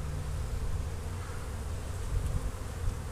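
Honey bees buzz steadily around an open 18-frame long hive during an inspection, a dense, continuous drone close by that swells slightly in places, with no talk over it.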